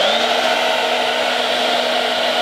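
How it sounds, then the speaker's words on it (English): A hair dryer blowing steadily and loudly up close on a pastel wig, a continuous whooshing whine with no pauses. "I'm gonna go back in with the hairdryer"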